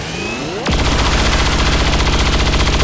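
A soldier in XCOM 2 opens fire on a Viper, a rising whir giving way to a sustained, loud, rapid automatic burst of gunfire with steady rhythm and no speech.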